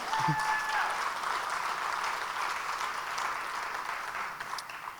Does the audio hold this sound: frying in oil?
no